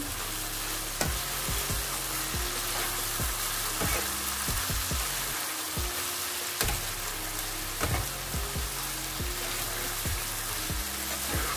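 Bitter gourd and onion with turmeric and chilli powder sizzle quietly in a pan while being stirred, the steady frying hiss broken by repeated knocks and scrapes of the spoon.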